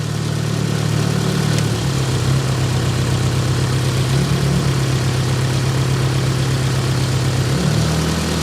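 A Nissan 200SX engine idles roughly while firing on its intake coils only, apparently missing on one or more cylinders; a steady low drone with an uneven, lumpy pulse runs throughout, close and fairly loud with no talking.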